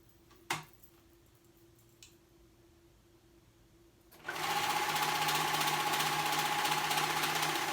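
Sewing machine stitching fabric: a few faint clicks and taps, then the motor starts and runs in a steady, fast, close mechanical whir for the last few seconds.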